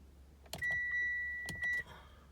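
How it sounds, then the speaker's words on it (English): Turning the ignition to position 1 on a 2014-onward Mitsubishi Outlander brings a few soft clicks and a steady electronic chime tone that holds for over a second, quiet and close inside the cabin. "turn the ignition switch in position 1"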